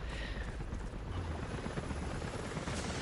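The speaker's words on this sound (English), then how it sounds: "helicopters are headed your way" A helicopter in Rise of the Tomb Raider, a dense continuous rotor roar and whine filling the clip, loud and steady as it approaches over a snowy village.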